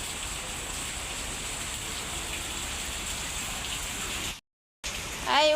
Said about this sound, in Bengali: আর এমন বৃষ্টি শুরু হয়েছে আসর আজানের পর থেকে